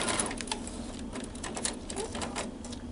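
Sewing machine running a back stitch on a plastic hospital protective gown, a steady rapid mechanical whir with fast needle ticks, close and continuous for a few seconds.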